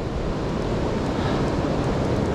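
Steady, loud rush of churning river water at Tippy Dam fills the whole clip, a dense roar with no pauses, like a river pouring toward a fall.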